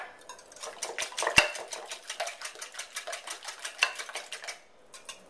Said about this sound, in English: continue to whisk